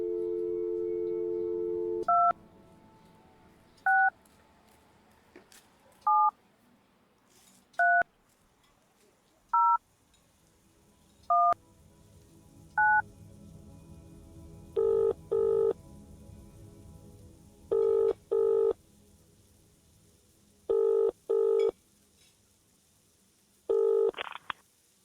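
A telephone being dialed to order plain rice for home delivery: a steady tone at first, then a slow series of separate beeping keypad tones, later ones fuller and doubled, distinct and close, with no voices.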